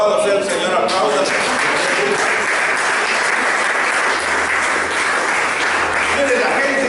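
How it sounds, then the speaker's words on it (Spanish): A church congregation applauds loudly and steadily during a sermon, a dense, continuous wash of clapping that fills the whole stretch, with voices mixed in underneath. "Aplausos."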